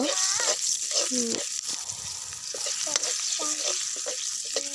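Steady sizzling and crackling of onions frying in hot oil, with a utensil stirring and scraping the pan in short bursts throughout.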